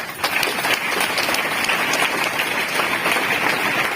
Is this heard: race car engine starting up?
no